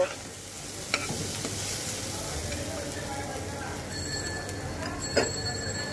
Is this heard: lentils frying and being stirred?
yes